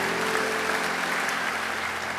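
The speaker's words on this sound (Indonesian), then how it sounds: "Tepuk tangan." A church congregation claps together during a worship service, forming a dense, steady wash of applause that stays even and loud throughout.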